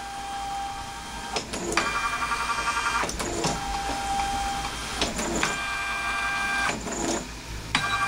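An embroidery machine traces a rectangle outline on stabilizer in its hoop, giving a steady mechanical whir broken by repeated short motor bursts and stepping shifts, close and fairly loud.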